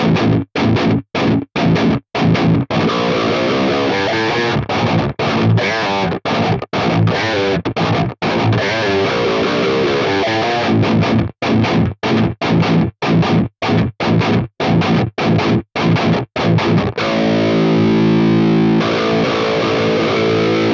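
Heavily distorted electric guitar played through a Hotone Ampero II Stomp multi-effects unit on a Bogner amp model, loud, biting chugging riffs with tight gated stops between hits, then a sustained ringing chord near the end.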